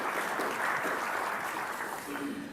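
Audience applause at a TechEd New Zealand 2012 technical session, a dense steady wash of many hands clapping that fills the room without a break, fairly distant and even in loudness, no voices over it.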